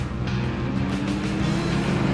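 Cross-country 4x4 race cars rumble through the town streets of Vryburg, a steady, loud engine drone holding through the moment without any speech.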